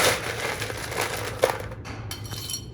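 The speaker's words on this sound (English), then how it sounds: "fill it up with your fresh ice." Fresh ice cubes tumbling into a double rocks glass while a Boulevardier cocktail is prepared, a dense run of clinking and crunching rattles with one sharper knock midway, close and fairly loud.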